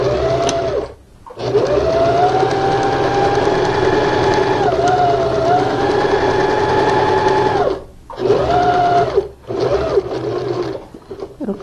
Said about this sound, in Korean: 러너 꼭지 부분을 박은질 하겠습니다.